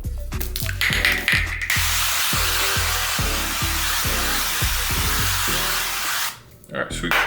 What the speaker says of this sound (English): Get some more spray.